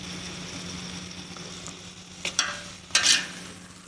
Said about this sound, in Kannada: ಬೆಣ್ಣೆ ಕುದಿಯಾಕತ್ತೈತಿ